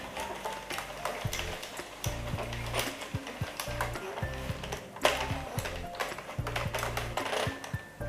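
An Addi Express knitting machine works a row of a knitted top, giving a steady run of close mechanical clacks and rattles in an even, repeating rhythm with no talking.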